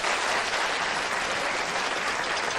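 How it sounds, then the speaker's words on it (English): A TV studio audience applauds steadily and loudly throughout, a dense unbroken wash of clapping with no talk over it, recorded at a late-night talk show taping. "Applaud if you've never been to one of these places."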